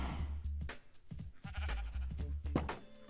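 Sheep in the Minecraft video game bleat several times in quick succession, loud and close, with a muffled background rumble and no talking.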